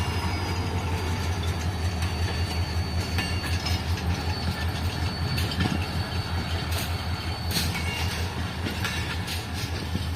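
A Shah Latif Express of Pakistan Railways, with mixed brakes, rolls through a loop line at Dabheji: a loud, steady, close rumble with continuous rhythmic clickety-clack of wheels and metallic squeals.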